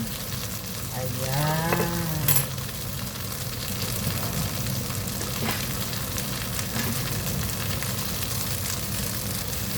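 Ginger frying in hot oil gives a steady, even sizzle throughout, with a brief clatter near the start and a voice speaking faintly over it early on.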